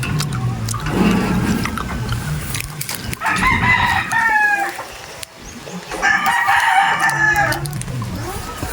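Two long crows from a golden monkey rooster ring out one after another, loud and close, with hens clucking in the background.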